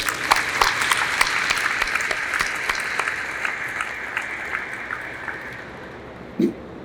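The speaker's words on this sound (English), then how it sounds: "Let's give them all a round of applause." Audience applause at a 96th Test Wing change of command ceremony at Eglin Air Force Base: dense, sustained clapping from a large crowd that slowly thins and fades, with a brief low thump near the end.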